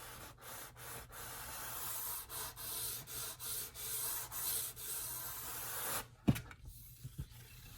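Super-fine sandpaper rubs back and forth over a Glarry guitar body in steady, close, rhythmic strokes, followed by a few brief handling knocks at the end.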